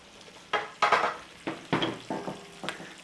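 Chopped onions sizzle in melted butter in a pan while a utensil stirs them in a series of about six short scraping pushes. The sound is close and crisp over a low frying hiss, with no talking.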